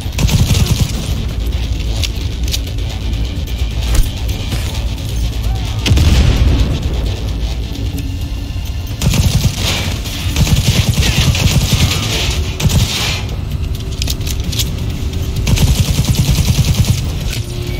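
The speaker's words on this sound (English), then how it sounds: "Explosion!" Dense gunfire and booming explosions fill a Cyberpunk 2077 firefight, loud and continuous with rapid automatic bursts and heavy thuds, while voices shout beneath the din.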